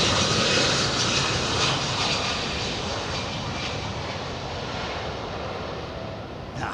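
An MD-11 airliner taxis past, its engine roar steady and loud throughout, easing slightly toward the end.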